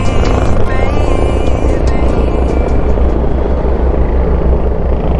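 Drone propellers drone in a loud, steady buzz in strong wind near the Pililla windmills in Tanay, Rizal, blended with rushing wind noise throughout, with a voice briefly audible beneath.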